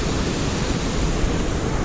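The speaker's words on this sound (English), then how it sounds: "There's a waterfall." A waterfall seen from a bridge near Neuschwanstein Castle in the Alps, a steady, loud, broadband rush of falling water with no breaks, heard alone.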